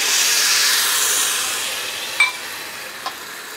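A loud hissing sizzle of about 1.5 cups of water hitting a hot pressure cooker of roasted rice and lentils for khichdi, fading gradually into steady steaming with a couple of small clinks.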